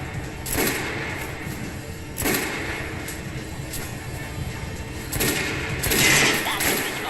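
Several separate gunshots from Metro: Last Light Redux target practice, each a loud sharp crack spaced a second or more apart over a steady background hum.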